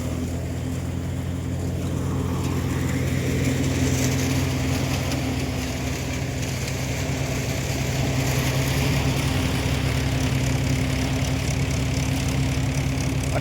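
A thresher works through green groundnuts, its engine drone and rattling mechanism running as a continuous, loud, even hum with no pauses.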